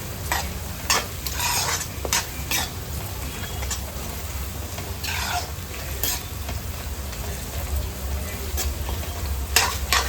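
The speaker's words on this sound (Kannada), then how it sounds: "ಒಂದು 4 ಹಸಿರು ಮೆಣಸಿನಕಾಯಿ ಚೆಂದ ಫ್ರೈ ಮಾಡ್ಕೊಳ್ಳೋಣ." Onions, curry leaves, chopped ginger and green chillies fry steadily in a pan for pepper chicken, giving a continuous close sizzle with a low hum and scattered bright crackles and stirring scrapes throughout.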